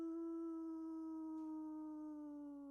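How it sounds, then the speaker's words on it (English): A lone wolf howl in the distance, one long faint call holding a steady pitch before sliding slightly downward at the end, with quiet surroundings. "You hear a wolf howl"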